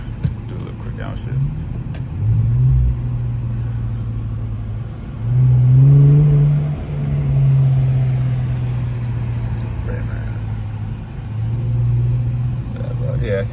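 A muffler-deleted Infiniti Q50 drives through Times Square, its loud, raspy exhaust droning low and swelling in several short revs and surges, with voices talking over it at times.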